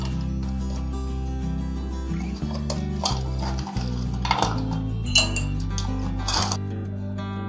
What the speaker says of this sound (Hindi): सबसे पहले मैं इसमें आइस डाल देती हूँ।